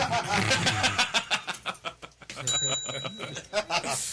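A small bell rings with a bright, sustained tone held for about a second, under ongoing talk and chuckling from several people.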